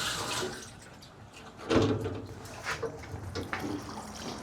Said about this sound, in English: now I'm going to attempt to pour this diesel out of this tank